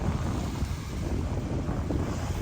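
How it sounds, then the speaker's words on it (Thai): Wind gusts steadily across the microphone outdoors on a Texas fishing trip, a continuous low rumbling buffet that stays loud and unbroken throughout, with no voices. "ลมค่อยๆเข้ามา"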